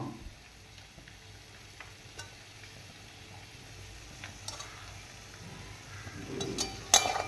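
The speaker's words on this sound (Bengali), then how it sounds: "দিয়ে আলুগুলো ভালো করে কষিয়ে নেবো" Potatoes and cabbage stirred in fish oil for a cabbage ghonto, a soft, low sizzle in a pan with occasional scrapes and clinks that grow busier and louder toward the end.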